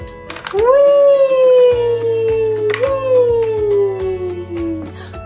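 A dog howls in two long, drawn-out wails that slide downward in pitch, with a steady low tone underneath.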